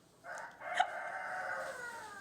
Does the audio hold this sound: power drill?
no